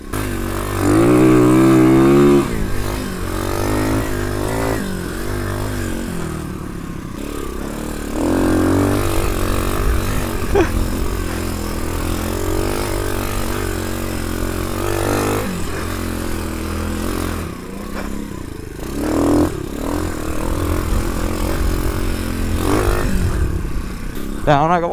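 Engine of an old YCF 125cc dirt bike ridden over soft, muddy ground, revving and bogging in uneven bursts with a steady buzzing drone throughout, close and loud, while someone talks over it.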